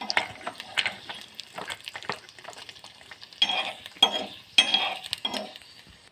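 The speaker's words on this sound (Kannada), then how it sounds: "ಇದು ಚಟಪಟ ಅನ್ನಲಿ, ಸ್ವಲ್ಪ ಕಲರ್ ಚೇಂಜ್ ಆಗಲಿ." Spices tempering in hot oil for a seasoning, crackling and spluttering close up with intermittent stirring and metal clinks of a spoon against the pan, fairly quiet overall.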